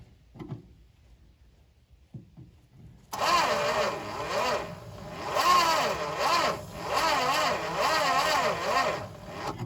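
A 1971 Dodge Charger Super Bee with an ignition fault cranks on its starter. A few light clicks come first, then about six seconds of loud, rhythmic, pulsing whir that never catches or fires, close up.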